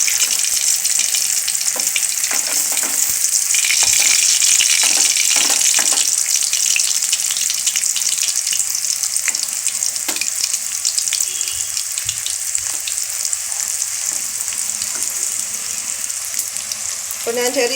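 Puri frying in hot oil in a small pan, a steady dense sizzle with crackling bubbles running throughout, close and fairly loud, with no talking over it.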